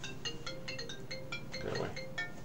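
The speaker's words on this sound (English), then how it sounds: "phone call's ringing" A phone rings with an incoming call, a repeating electronic ringtone of short evenly spaced beeps, moderately loud and steady throughout, heard over quiet background during a live game-development stream.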